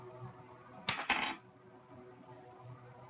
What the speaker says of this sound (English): So I'm gonna go ahead and roll the dice.